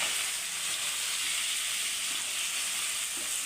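Chicken fries in a pan with a continuous, even, close hiss of sizzling oil, steady in loudness throughout and with no talking.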